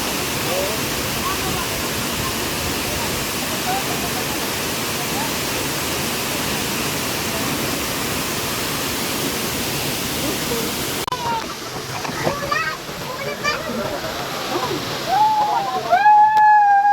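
Tinago Falls roars as a loud, steady wash of falling water that fills everything. Near the end the roar drops away and a voice speaks over the fainter water.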